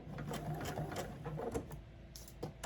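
Sewing machine stitching a thick quilt seam, a close, steady rapid whirring chatter that holds throughout, with no voices over it.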